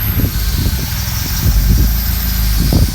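An Infiniti G35 with an SRS catback exhaust cranks and settles into a loud, close, rumbling idle with low-frequency pulses throughout.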